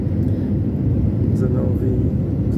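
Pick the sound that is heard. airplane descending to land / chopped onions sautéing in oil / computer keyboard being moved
airplane descending to land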